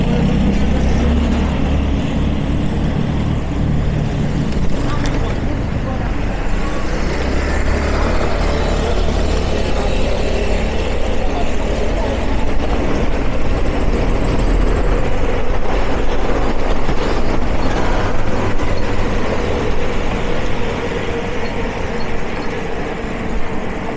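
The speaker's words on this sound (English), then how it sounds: "We're doing 30 up it and I'm having to use the brakes." A car climbing a steep hill at about 30 mph, its engine and road noise forming a continuous loud rumble throughout with little variation, no talking over it.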